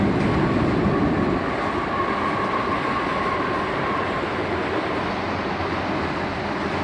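A CSX Autorack freight train, led by a single locomotive with distributed power placed near the front, crosses a railroad bridge in a steady, loud, close rumble that holds throughout with no voices.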